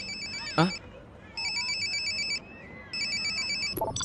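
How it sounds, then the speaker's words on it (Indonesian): Cartoon mobile phone ringtone: an electronic melody repeats in three clear bursts separated by short gaps, with soft background sounds and a brief voice between rings. "Angkat teleponmu, Ulrich."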